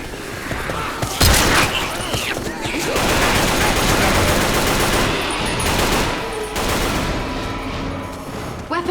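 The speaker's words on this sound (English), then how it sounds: "Why are you shooting me?" Rapid bursts of gunfire from Left 4 Dead 2 fill the clip, dense automatic fire running almost continuously and loudly with sharp transients, no talk over it.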